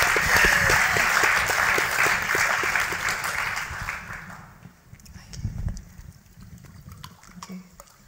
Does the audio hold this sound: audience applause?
yes